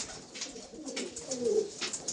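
A Madrasi pigeon coos softly in a low, rolling call that swells near the middle, heard close with faint background noise and no talking.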